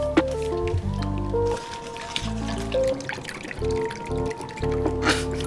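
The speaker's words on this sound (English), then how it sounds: "Watch me whisk it." Pancake batter whisked with a fork in a bowl, giving close, wet squishing and sloshing strokes in an uneven rhythm, with a steady background tone and occasional voices.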